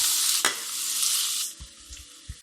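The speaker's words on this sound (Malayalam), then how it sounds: "നെയ്യ് ചൂടായി വരുമ്പോൾ അതിലേക്ക് സവോള ചേർത്ത് കൊടുക്കാം." Chopped onions hitting hot ghee in a pan for Mangalore chicken ghee roast, a loud broad sizzle with a sharp spike as they drop in, settling into steady frying, then softer stirring scrapes and knocks near the end.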